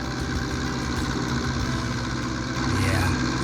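A tractor engine in Farming Simulator 25, pulling a heavy trailer loaded with large trees, drones steadily throughout with a low, even hum that thickens slightly near the end.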